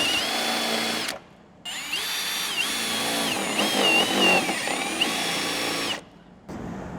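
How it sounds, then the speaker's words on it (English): An air hacksaw buzzes loudly and steadily while cutting a hole in a Mitsubishi MQ Triton guard for a snorkel kit, stopping briefly twice before starting again. "So I'll rest the air hacksaw against my finger there"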